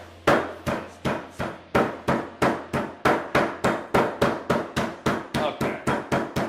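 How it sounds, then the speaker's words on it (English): A hammer pounds beef thin in a fast, steady series of about twenty loud, close thuds, each blow sharp with a short decay, evenly spaced roughly three per second with no talking. "You hit it with a hammer on it."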